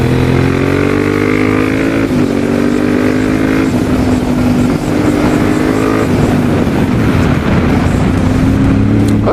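A Honda CRF1000 Africa Twin motorcycle engine drones loudly and continuously up close, its pitch rising and falling slightly as the bike rides along.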